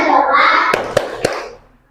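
A third-grade class does a 'tepuk fokus' clapping routine: children's voices chatter, then three sharp, evenly spaced hand claps ring out close by before the room falls quiet.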